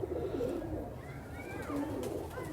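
A high flyer pigeon coos softly in a low, rolling murmur, with a couple of faint higher chirps over a muffled background.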